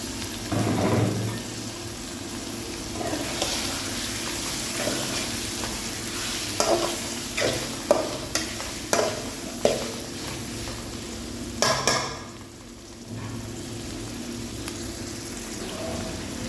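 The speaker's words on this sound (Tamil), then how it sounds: "நல்லா வதங்கிட்டு இப்போ சிக்கன் சேர்த்துருக்காங்க." Chicken added to masala sautéed with green chilies fries in a pan with a steady, close sizzle, broken by intermittent clinks and scrapes of stirring, with no talking.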